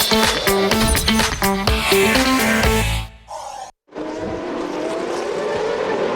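GP2 race cars battling in a 2007 sprint race at Bahrain, loud high-revving engines with rapid gear changes and a close pass, then a brief cut before a sustained roaring drone of cars at speed.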